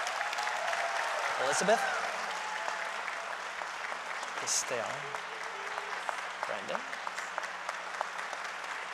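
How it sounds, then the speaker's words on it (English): Audience applause for scholarship recipients at a music members' meeting and awards ceremony, a moderate clapping wash under a voice reading out names over it. "Please give them a round of applause"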